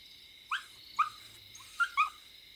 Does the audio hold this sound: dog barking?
yes